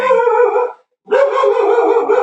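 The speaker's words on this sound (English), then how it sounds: "you got dogs barking at you in the dugout" A dog barking and howling nearby indoors, two loud sustained drawn-out calls split by a brief silence, alone without talk.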